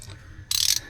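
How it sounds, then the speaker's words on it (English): A ratchet tightens the 16 mm oil drain plug on a Jeep Wrangler TJ, giving a faint first burst and then a louder, rapid run of clicks lasting about a quarter second, close up over a low background hum. "Tighten her up. Again, 16 millimeter. Click, click. Click, click."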